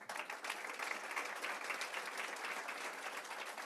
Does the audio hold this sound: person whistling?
no